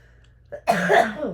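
A single harsh, close cough following a brief throat sound, loud and abrupt.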